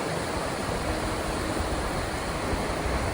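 A trout river in Sangti Valley, Arunachal Pradesh, gives off a constant, even rush of flowing water, fairly loud and unbroken, with no voices.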